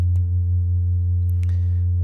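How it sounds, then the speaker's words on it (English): A Sputnik Modular Dual Oscillator holds a steady, loud low sine-wave drone with reverb, an unbroken hum with a few faint clicks and blips above it. "this is the oscillator number 2, obviously just a sine wave. I've got a little bit of reverb as well"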